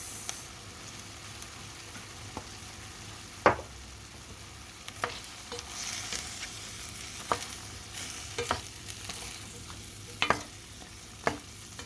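Beef and broccoli sizzle steadily in a pan as sesame oil goes in, with a utensil clanking sharply against the pan every second or two over the constant frying hiss, and no voices.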